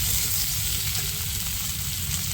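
Chopped tomato frying with browned onions in a pan, giving a loud, dense, continuous sizzle close up with no voices.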